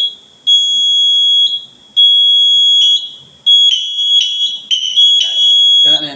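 Electronic alarm during a fire alarm system test, a loud piercing steady tone sounding in repeated bursts with short gaps, later warbling and pulsing, with faint talk and movement underneath.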